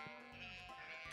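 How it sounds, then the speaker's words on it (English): A sheep bleats in the farming video game Stardew Valley on a Meadowlands farm, one short, quiet wavering bleat over steady game background music. "Hello, my little sheepies"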